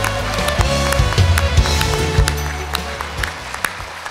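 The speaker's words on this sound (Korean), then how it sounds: "여러분 격려의 박수 부탁드립니다." An audience at a club anniversary ceremony gives encouraging applause, with scattered claps over steady low-pitched music playing underneath.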